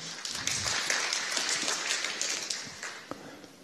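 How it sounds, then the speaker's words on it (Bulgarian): Audience applause greets a speaker at a programming language talk, a burst of scattered hand clapping from a modest indoor crowd lasting a few seconds. "Аплодисменти."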